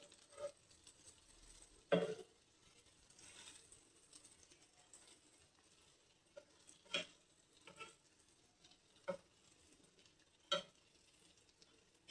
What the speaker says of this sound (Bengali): এই যে কত সুন্দরভাবে ভাজা ভাজা হচ্ছে।